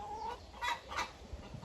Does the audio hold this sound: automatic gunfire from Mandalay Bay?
no